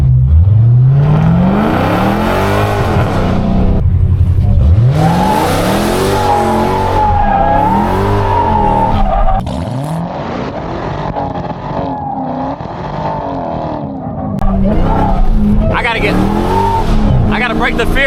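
Dodge Hellcat sliding through every turn, its engine revving and roaring as the tires squeal in long drawn-out slides, loud and close from inside the car with someone talking over it.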